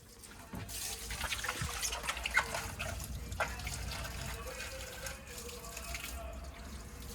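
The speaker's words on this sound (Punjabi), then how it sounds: "ਟੂਟੀ ਬੰਦ ਕਰ ਦਸੋ" Water runs steadily from a household tap into a drain at a rural Punjabi home, a close, continuous splashing trickle, with faint voices and household clatter in the background.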